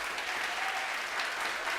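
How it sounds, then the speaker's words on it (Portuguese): A congregation applauds during a church service, dense steady applause with no gaps, heard at a distance and fairly faint. "Você pode aplaudir ao Senhor?"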